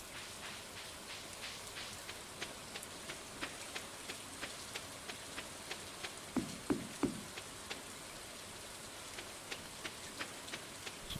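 Steady patter of rain in the Stardew Valley farming game, a soft even hiss dotted with regular faint drip-like ticks and a brief cluster of low thumps midway.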